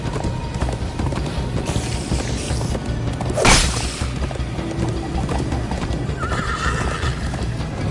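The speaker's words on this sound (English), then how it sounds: "First time on a horse here." A horse gallops with quick clip-clop hoofbeats and a whinny in the Minecraft Story Mode video game, close and continuous under a mix of game sound effects and music.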